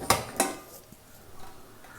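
A pressure cooker lid is opened after cooking beef, giving two sharp metallic clanks close together, then faint scraping and rattling of metal in a quiet kitchen.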